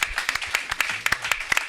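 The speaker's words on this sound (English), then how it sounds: "Give Christina Giordano a nice round of applause" Studio audience clapping during a recovery talk show, a short burst of sparse, distinct hand claps, fairly faint and close together.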